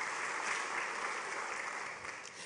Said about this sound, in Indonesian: Kasih tepuk tangan yang meriah dulu buat Tuhan.